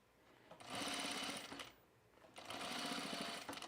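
Two close bursts of a sewing machine stitching along a folded fabric edge for a Style Arc Teddy top, each a rapid buzzing run of needle strokes lasting about a second, separated by a brief pause.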